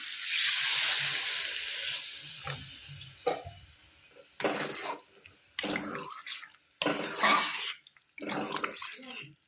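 Water poured into a pan of fried spiced Bengali fish curry masala, a hissing splash at first, then several short bursts of pouring and sizzling separated by quiet gaps.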